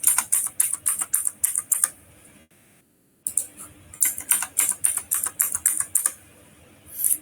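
Rapid clicking keystrokes on a computer keyboard while a password is entered, two bursts of quick taps separated by a short silent pause, close and clear with no talking.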